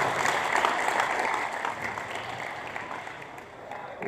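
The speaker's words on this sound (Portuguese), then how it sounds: "Uma salva de palmas," Applause from a crowd at a karate belt exam, dense and steady clapping that starts strong and eases slightly toward the end, with no talk over it.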